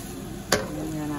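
Sotanghon glass noodles with mixed vegetables are stir-fried in a pan, giving a soft steady sizzle with a single sharp scrape of the utensil midway.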